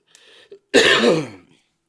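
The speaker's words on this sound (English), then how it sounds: "I ain't been coughing, y'all." A single loud, close throat clearing that breaks into a harsh cough, preceded by a faint breathy rasp.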